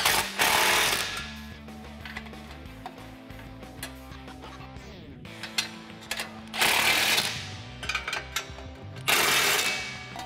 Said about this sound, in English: now you can tighten it down with your 15 socket and wrench